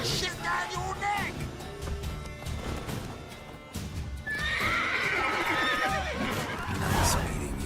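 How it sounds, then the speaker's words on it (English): A horse in The Witcher 3 neighs loudly and kicks, with hoof clops and a thudding impact in a busy game soundscape, over background speech. "The horse kicked him!"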